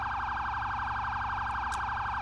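A police car priority horn in the Arma 3 video game, used to claim right of way at intersections, holds a loud, steady, wailing electronic tone without pause.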